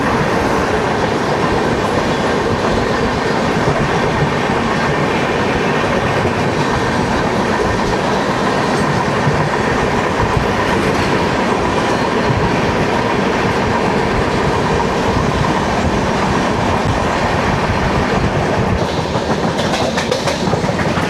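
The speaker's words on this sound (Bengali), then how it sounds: "আমাদের ট্রেন দুর্গ থেকে ছাড়লো" A passenger express train rolls steadily along the rails after leaving Durg, a continuous loud rumble with rhythmic clickety-clack of wheels over track joints throughout.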